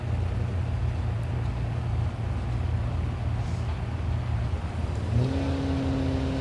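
A Cadillac CTS-V and a GTO drag race at Thunder Valley in Noble, Oklahoma, producing a steady roar of engines at a distance, with a rising engine tone near the end.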